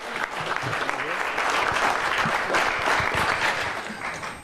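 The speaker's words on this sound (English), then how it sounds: "Let's give him a big round of applause." An audience at a Rotary club meeting claps steadily for several seconds. The applause is dense and even, with no voices over it.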